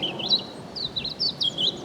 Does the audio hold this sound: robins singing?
yes